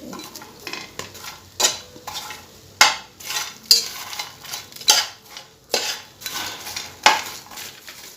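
Popcorn being fried and stirred in a pan, with a soft sizzle broken by sharp, irregular scrapes and clatters of a spoon against the metal, close and loud with no talking.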